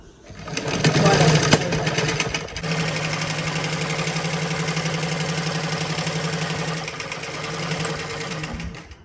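Sewing machine stitching a boat neck blouse, running in a steady close whir with a brief louder burst near the start and a long even stretch of stitching after it.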